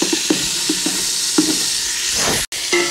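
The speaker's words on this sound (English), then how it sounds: "now we're going to cook this bacon till the fat has all rendered and we'll stir it occasionally" Bacon frying in butter in a pan on a 1927 range: a steady loud sizzle and hiss with occasional soft stirring scrapes, close by and with no talk.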